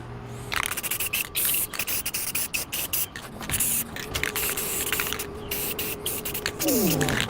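Acetone sprayed from a can onto a vehicle suspension part after wire-wheel cleaning, loud close hissing bursts in rapid, choppy pulses nearly continuous across the stretch, with faint rustling and a brief rising whine near the end.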